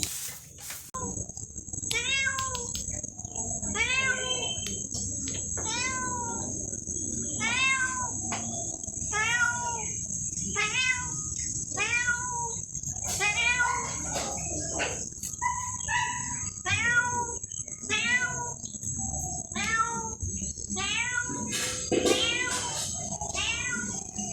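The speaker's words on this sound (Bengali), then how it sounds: "আর সকাল থেকেই ম্যামও আওয়াজ শুনতে পাচ্ছি" Cats meow repeatedly, a string of rising, plaintive calls close by, against a constant high insect-like whine and soft background noise.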